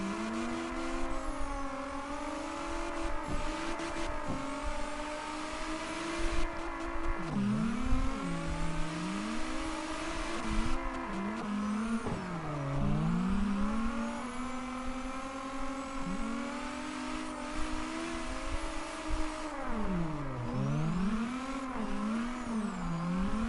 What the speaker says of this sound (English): Mustang is really drifting around like it's a full-on, basically a full-on